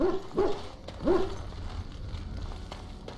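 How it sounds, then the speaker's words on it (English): A Mabari war dog in Dragon Age: Origins lets out three sharp barks in quick succession, close and clear, followed by quieter game ambience. "Sometimes I forget that he's a war dog."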